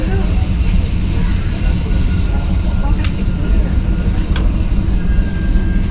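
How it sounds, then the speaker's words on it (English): A Rocky Mountaineer passenger train rumbles steadily close by between Kamloops and Vancouver, with a constant low roar and faint high metallic squeals, no voices over it. "our sister train is actually passing us too"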